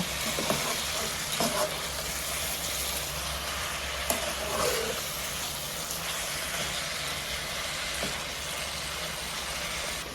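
Spiced chalta (elephant apple) chutney is stirred in a pan, giving a steady close frying sizzle with scattered scraping clicks from the spoon throughout, no voices.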